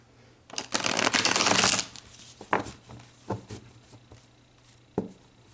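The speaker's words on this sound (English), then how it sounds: "let's pull some more cards about this beautiful soul" Tarot cards being shuffled at close range: a loud riffling burst followed by several softer taps and shuffles, with no talk.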